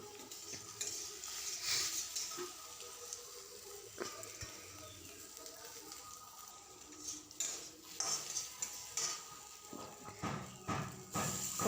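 Scrambled egg frying on low heat in a pan, with soft sizzling and intermittent stirring and scraping of a utensil against the metal, close and fairly quiet, no talk.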